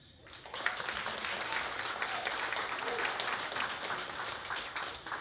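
Wedding guests applaud the bride and groom's parents, a warm, steady round of clapping that starts suddenly and carries on evenly at moderate distance.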